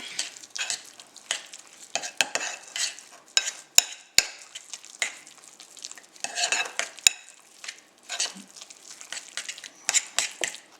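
A beetroot mixture being folded together in a pan, with irregular bursts of wet stirring, scraping and soft sizzling, punctuated by a couple of sharp utensil clicks against the pan, close and moderately loud.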